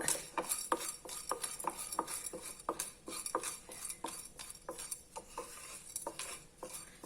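Urad dal roasting in oil in a pan, stirred with a metal spoon: steady repeated scraping and clinking strokes against the pan, close and moderately loud, with no voices.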